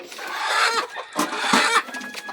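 Chickens on a Philippine farm cluck in a busy, close cluster of overlapping calls, with a few louder squawks rising above the steady flock noise.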